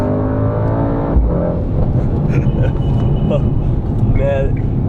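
Mercedes-AMG GT63S launching with launch control, engine held at a loud rumbling rev then surging hard as the car accelerates away, heard from inside the cabin with people talking over it.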